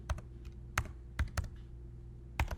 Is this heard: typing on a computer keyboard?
yes